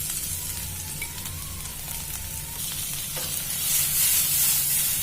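Baby potatoes crackle and sizzle over medium heat in a pan while being stirred, a steady close frying hiss with occasional scrapes that grows slightly louder near the end, no voices.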